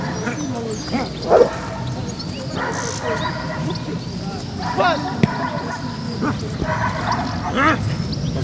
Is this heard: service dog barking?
yes